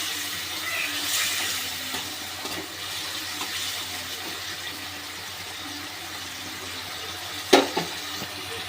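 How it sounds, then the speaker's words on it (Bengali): Morla fish curry simmering in a pot, a steady soft bubbling and hiss that continues evenly, with one brief clink near the end. "মোরলা মাছটা দিয়ে আমি একটু ফুটিয়ে নেব।"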